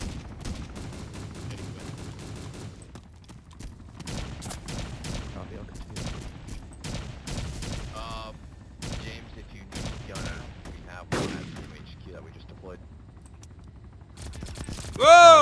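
Gunfire in the military shooter ARMA 2 during a long-range fight: repeated shots and bursts crackle throughout, with a sharper, louder report near the end, while players talk over the shooting.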